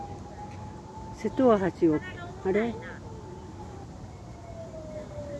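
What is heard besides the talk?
ambulance siren crossing Seto Ohashi bridge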